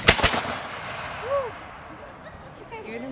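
A Creek War-era Tennessee militia fires a musket volley on command, one loud, sharp crack with a few overlapping reports at the start, then a long fading echo outdoors and faint birdsong.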